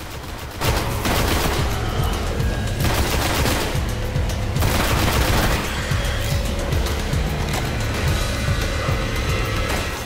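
Continuous rapid gunfire from the Destiny video game, dense and loud with overlapping automatic bursts and booms filling the whole stretch.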